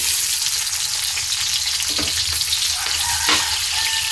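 Onion sautéing in a large wok-style pan with a big batch of pork menudo, a loud, steady sizzle with a couple of brief stirring knocks, no voices.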